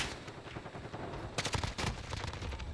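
Rapid gunfire in the video game Warzone: quick bursts of shots, lighter at first then louder and denser volleys in the second half, with no talking.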